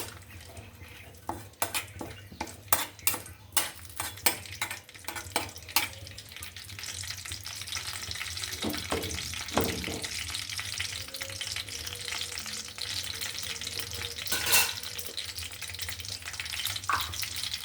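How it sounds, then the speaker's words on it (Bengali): Small cinnamon sticks fry with a bay leaf in a pan while noodles are cooked. Several crisp utensil clinks and scrapes come first, then a steady, close sizzle with occasional clatter. "কয়েকটা দারচিনি ছোট তাই কয়েকটা দেওয়া হয়েছে একটু ভেজে নিব"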